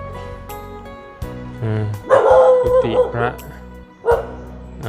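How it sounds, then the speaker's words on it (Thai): Dogs bark at a Thai Buddhist temple near the monks' quarters, a few yips and bow-wows rising mid-clip and again near the end, mixed in with someone talking close by. "หมาก็เริ่มเห่าแล้วนะ"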